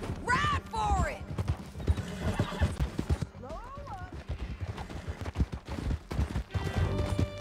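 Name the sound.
horse galloping in Red Dead Redemption 2 video game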